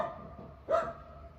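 A single short dog bark sounds at moderate distance indoors, standing out briefly over a quiet room hum.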